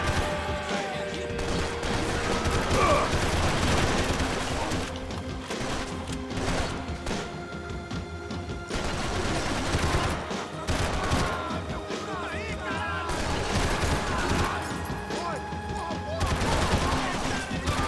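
Gunfire in the video game Max Payne 3 during a shootout with police, dense overlapping shots and impacts over a steady game soundtrack.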